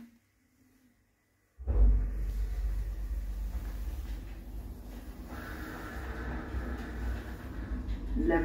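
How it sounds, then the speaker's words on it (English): A small Stannah passenger lift in a Matalan store in Cheltenham starts up after a near-silent pause, its motor settling into a steady, low rumbling hum as the car rises. "Lift going up."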